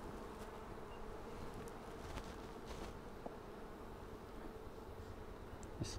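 Honey bees buzz at an opened Flow Hive during a brood inspection of a split colony, a dense, continuous drone with occasional louder passes of individual bees close by, no talk.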